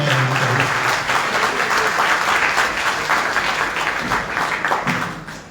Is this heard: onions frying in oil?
no